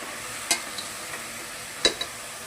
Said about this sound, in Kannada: ಈಗ ಹಲಸಿನಕಾಯಿನ ಫ್ರೈ ಮಾಡ್ಕೊಳ್ಳೋಣ ಸ್ವಲ್ಪ.